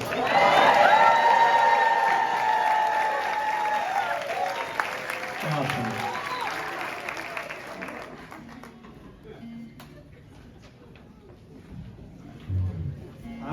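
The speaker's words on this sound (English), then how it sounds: "Start cheering like you like us." A concert audience at a World Voice Day event claps and cheers loudly, then the applause fades out while a person speaks.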